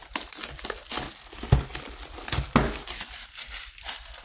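Plastic shrink wrap being ripped off a DVD box set, a run of close crinkling and crackling bursts with two sharper tearing snaps, uneven in rhythm, with no speech.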